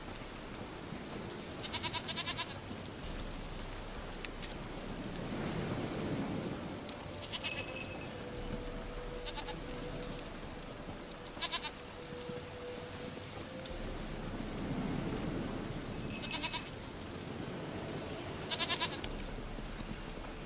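A goat in The Witcher 3 bleats repeatedly, several separate nasal cries spaced a few seconds apart over a soft, steady outdoor ambience, with no voices.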